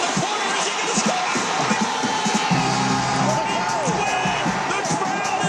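A stadium crowd of Beavers fans roars and cheers continuously as they storm the field after a win, with loud commentator talk layered over the din.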